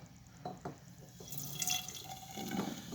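Homemade wine is poured from one container into another, giving a close, gurgling splash of liquid that builds into a steady trickle.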